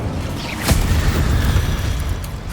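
In Hogwarts Legacy, an Incendio fire spell is cast with a loud whooshing boom, followed by a sustained roaring rush that holds steady and fades slightly, with no talking.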